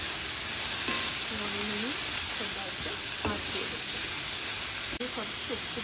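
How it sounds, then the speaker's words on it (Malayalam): Chopped onions fry in hot coconut oil for a Kerala-style lamb curry, a continuous close hiss and sizzle with occasional stirring scrapes and brief spoon clinks. "അതിനകത്തോട്ട് നമുക്ക് ഓണിയൻ ഇട്ട് കൊടുക്കാം."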